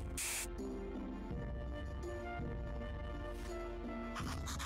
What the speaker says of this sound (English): And now spray it into both eyes.